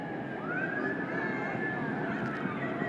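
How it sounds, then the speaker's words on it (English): Emergency sirens wail as they approach a street protest in Rochester, one rising and gliding tone holding steady and fairly loud over the crowd's background rumble. "And you can hear the sirens approaching this location."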